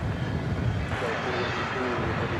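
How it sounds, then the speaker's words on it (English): An American Airlines Boeing 777-300ER, eleven years old, taking off from the west side of Dallas Fort Worth airport at night, its jet roar rumbling steadily in the background. "there's a 777 going through the background there. That's going to London Heathrow."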